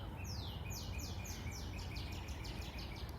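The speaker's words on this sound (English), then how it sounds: "It is a spring day, and I am outside in this moment, and the birds" Outdoors on a spring day, a bird sings a rapid series of descending whistled notes that repeat about a dozen times, faint and somewhat distant over a steady rushing background.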